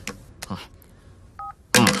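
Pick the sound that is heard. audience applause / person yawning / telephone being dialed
telephone being dialed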